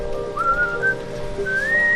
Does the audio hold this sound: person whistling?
yes